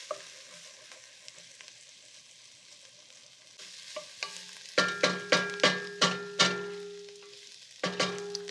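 Garlic sizzling quietly in a pan, followed by a run of sharp metallic clinks as a utensil stirs and taps against the pan.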